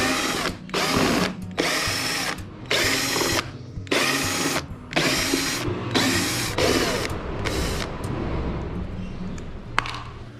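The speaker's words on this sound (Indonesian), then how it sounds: "Selanjutnya buka 8 skrup box aki yang terhubung ke bodi belakang." A power driver backs out the eight screws of an ATV battery box on the rear body, in repeated loud whirring bursts with short pauses between, ending in quieter ratchety clicks and a metallic ping.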